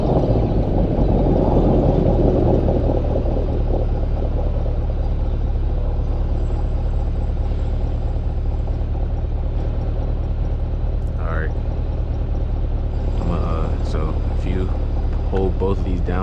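Stock exhaust of a 2024 Chevrolet Corvette C8 in tour mode, a steady, loud, deep engine rumble that holds evenly the whole time, with a faint voice briefly audible near the end.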